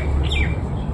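Pet pigeons at home giving a brief, close squawking call, a short harsh burst in a quiet room.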